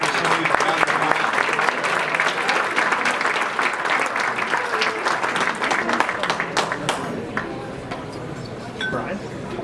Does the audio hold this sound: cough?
no